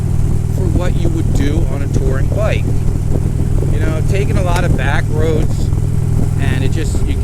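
A Harley-style touring motorcycle with a 103 twin cam engine and heavy flywheel lopes along at 2200 RPM in fifth gear at about 50 mph, a constant low rumble under someone talking throughout.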